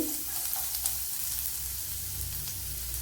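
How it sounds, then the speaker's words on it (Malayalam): A small piece of ginger fries in a tablespoon of coconut oil, giving a steady, close hiss of sizzling with a faint low hum beneath and no voices. "വൺ ടേബിൾ സ്പൂൺ വെളിച്ചെണ്ണ ഒഴിച്ചു കൊടുത്തിട്ടുണ്ട് ഇതിലേക്ക് ചെറിയൊരു പീസ് ഇഞ്ചി"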